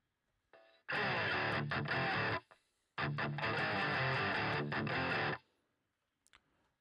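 Distorted electric guitar played through a GarageBand amp simulator, two loud sustained bursts of strummed, saturated chords with brief gaps and a sharp cutoff, played alone without talk.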